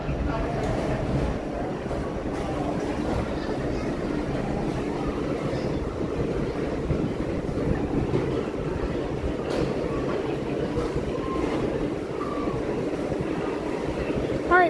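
Walt Disney World's green monorail arriving at a station: a steady, loud rumble of the train rolling in, with people talking nearby and a low hum throughout.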